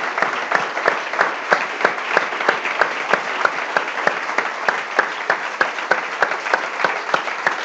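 Steady rhythmic clapping from a crowd, loud and sustained, with sharp regular beats running through the applause.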